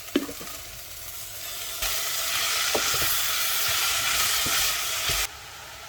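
Spinach tossed into a pan of garlic and golden-browned onions sets off a loud, steady sizzle, with scattered clicks and scrapes of stirring near at hand and no one talking.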